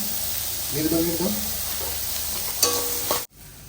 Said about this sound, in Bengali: পপকর্নগুলো ভেজে দেবো একটু গোলমরিচ দিয়ে দিলাম